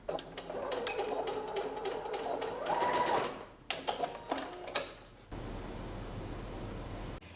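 A sewing machine runs in short bursts, stitching forward and then back, with a close mechanical whir that stops and starts before a soft hiss of handling noise.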